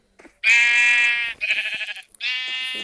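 Sheep bleat loudly and close in a city-building video game, three drawn-out wavering calls in quick succession with brief gaps and no talk.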